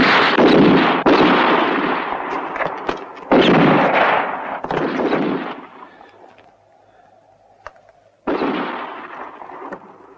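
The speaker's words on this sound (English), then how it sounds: "so keep on shooting all the time" Gunfire in a western shootout: heavy, booming shots with long echoing decays, several in quick succession, then a quieter lull with a lone crack before another loud burst, near and dominant, with no talk.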